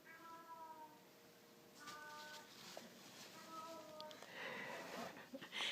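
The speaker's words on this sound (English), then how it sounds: "This cat is meowing." Cat meowing at a front door in three drawn-out calls, faint and somewhat distant over quiet room tone with slight rustling.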